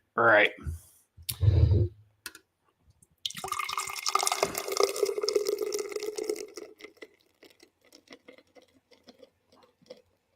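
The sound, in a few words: Paulaner Oktoberfest beer poured from a can into a liter glass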